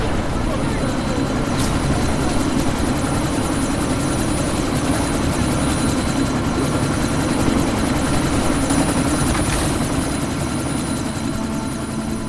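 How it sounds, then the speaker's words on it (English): A helicopter takes off in the video game Deus Ex Mankind Divided with a loud, continuous rotor and engine roar filling the whole stretch. Voices occasionally sound over the din. "That chopper's about to take off!"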